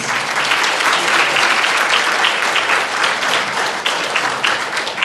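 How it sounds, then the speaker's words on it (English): Steady, loud audience applause at a chamber of commerce diversity-in-business event, a dense wash of clapping that holds for about five seconds without a break. "So let's have a round of applause for Moses."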